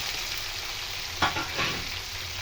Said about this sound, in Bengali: এই যে কাঁচা কলাটা আমি গ্রেট করে নিয়েছি, দিয়ে দিলাম